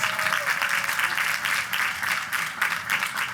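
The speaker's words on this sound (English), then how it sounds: "a strong round of applause for those who have served this great nation" A large crowd at a college commencement ceremony applauds military veterans with steady, dense, sustained clapping that fills the hall evenly, loud and continuous throughout.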